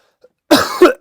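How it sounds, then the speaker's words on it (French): A single close cough, harsh and abrupt, breaking into a second rasping push after near silence. "Je tousse encore bien quand même."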